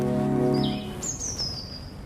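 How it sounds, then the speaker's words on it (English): Garden birds chirping in a few thin, high whistled calls, one at a time, moderately close over a steady outdoor background with a low hum at the start. "Feeding the garden birds."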